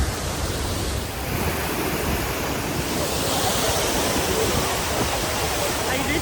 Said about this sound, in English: was worth being this close to the waterfall, where water literally hits your face